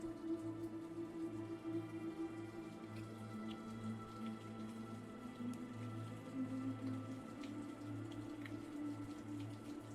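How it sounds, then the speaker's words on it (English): Steady rain falls during a thunderstorm, a continuous close patter of drops on surfaces with a constant low rumble beneath, even and unbroken throughout with no distinct thunderclap. "today, this storm, full of rain, full of thunder"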